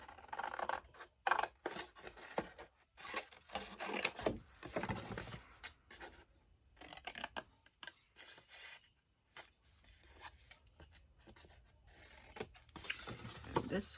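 Scissors snipping through paper while making a Valentine gift box, with bursts of close, crisp cuts and rubbing of paper between pauses, quiet overall.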